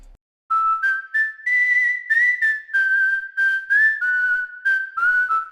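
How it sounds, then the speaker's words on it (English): Human whistle sample from the Sounds of KSHMR Vol 4 pack: a clear, close melodic whistled phrase of short sustained notes with brief gaps, played alone after a moment of silence. "Something else I want to show here is the human whistle or the K-pop folder"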